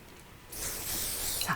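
Hair spray being sprayed onto a short, blow-dried bob, heard as a single close, continuous aerosol hiss that starts abruptly after a quiet moment and lasts about a second.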